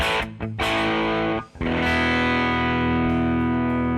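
An electric guitar plays straight into a Mixwave amp simulator with no pedal, giving a distorted tone: two short choppy stabs, a brief gap, then a loud ringing chord held out to the end.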